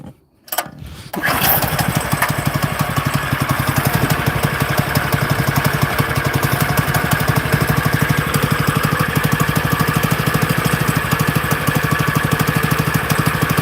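A small motor coughs to life after a brief quiet moment, then settles into a steady, loud, rapid-pulsing idle that runs unbroken to the end.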